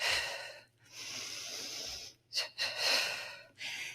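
Heavy breathing from a person working out with a steel mace: a series of loud, close, airy inhales and exhales separated by short pauses, with no talking.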